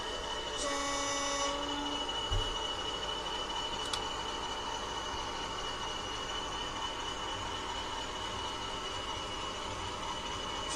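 A model train runs on a layout, heard as a quiet, continuous mechanical rumble with a brief electronic horn-like tone near the start and a couple of faint clicks.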